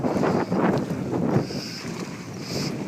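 A sailboat under way in strong wind near the Martha's Vineyard ferry, with steady loud wind rush over the microphone and water wash along the hull, no voices.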